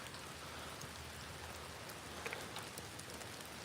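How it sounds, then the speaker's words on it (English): Steady rain falls outdoors during a nighttime worm hunt in Ontario, a dense even patter with one or two brighter drops near the middle, no voices. "I wish the rain would just hold up."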